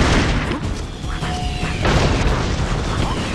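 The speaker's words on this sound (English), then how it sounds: "things are really starting to explode a lot" Explosions in the 2D action video game Broforce: a dense, continuous wash of booming blasts and crashing debris that rumbles without pause.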